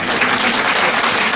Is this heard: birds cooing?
no